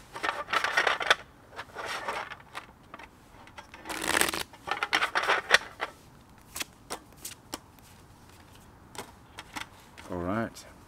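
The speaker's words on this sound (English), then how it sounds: "Let's get two more shuffles." Tarot cards are shuffled repeatedly up close, with crisp riffling bursts and soft flicks separated by brief pauses, followed by a short warbling tone near the end.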